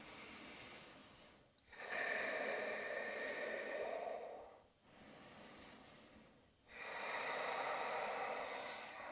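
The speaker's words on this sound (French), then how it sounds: "3 respirations." During a yoga leg stretch, a person breathes slowly through three long, steady airy breaths, each separated by a short pause, close and soft, with no talk.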